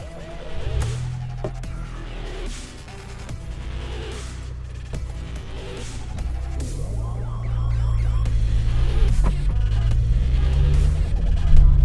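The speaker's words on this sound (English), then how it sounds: "I don't know if you can hear that exhaust note, but it's an aftermarket exhaust" Aftermarket exhaust on a 2016 Volkswagen Polo GT TSI hatchback gives a steady, deep rumble that swells louder toward the end, heard up close with no talking.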